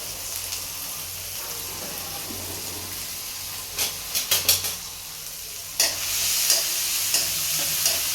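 Chopped onion for a Maharashtrian kanda bhaji sizzles steadily in a hot pan, a continuous frying hiss broken by several sharp scraping stirs near the middle and end, close and fairly loud with no talking.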